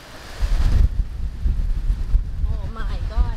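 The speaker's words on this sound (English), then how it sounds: "Oh my gosh, it's so windy." Strong wind buffeting a handheld microphone at a seaside restaurant on Koh Lipe, Thailand, a loud continuous rumble throughout, with a person talking over it.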